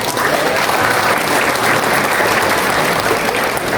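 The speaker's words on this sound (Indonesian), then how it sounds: "Untuk kali ini kita beri tepuk tangan untuk tim kebendaharaan kita." Applause from an Indonesian political party gathering, a steady dense clapping crowd sustained and loud throughout, honoring the party's treasury team.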